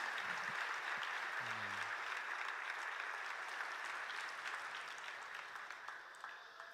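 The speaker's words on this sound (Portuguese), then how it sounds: "Receba uma salva de palmas do Cristo, por favor." A church congregation at a ministers' gathering applauds, a dense, steady wash of clapping that holds strong throughout and tapers slightly toward the end.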